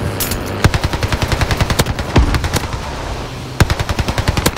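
Gunfire in a video game on the Caldera map: rapid, loud bursts of automatic fire with sharp, evenly spaced cracks, pausing briefly between bursts and punctuated by a few heavier single shots.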